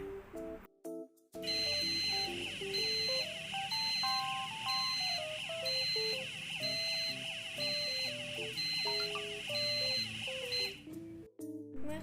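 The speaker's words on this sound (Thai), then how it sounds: "เครื่องส่งสัญญาณไซเรนดังขึ้น" A drowning-person alert device sounds its electronic siren, a loud, continuous warbling alarm with a repeating high beep, starting after a brief gap and cutting off near the end.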